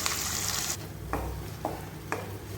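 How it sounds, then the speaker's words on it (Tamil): Ground herb paste sautéing in sesame oil for herbal rasam, a loud hiss that eases into a gentler sizzle, with three or four spoon scrapes against the pan. "இப்படி நல்லா வதக்கி விட்டுறலாங்க."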